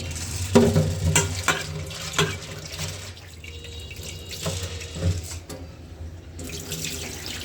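Lentils washed in water in a home kitchen, with splashing, sloshing and swirling from hands in a bowl and a running tap, loud and close, easing off midway before resuming.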